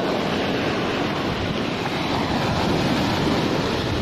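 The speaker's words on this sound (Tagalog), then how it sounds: "Malaki ang alon dito guys" Big ocean waves surge and roar continuously at Bas Mangkalay Beach in Lugus, Sulu, a loud, steady wash of surf mixed with wind buffeting the microphone, with no talking.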